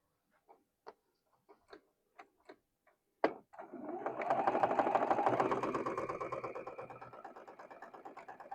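A sewing machine joins fabric pieces. A few soft ticks and clicks come first, then a sharp knock, and the machine runs in a continuous close whirring stitch for about three seconds before slowing. Sparse ticks follow, with no speech.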